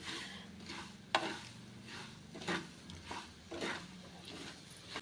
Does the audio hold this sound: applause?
no